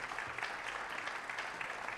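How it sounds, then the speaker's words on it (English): A crowd in a college hall gives an even, sustained round of applause before a Texas attorney general candidate debate, moderately distant and slightly soft, with no speech over it. "make sure you give them a round of applause for being here today"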